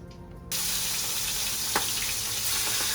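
Steak dropped into a red hot pan aboard a sail boat bursts into a loud, steady sizzle that starts abruptly and keeps hissing evenly, with a small clatter partway through.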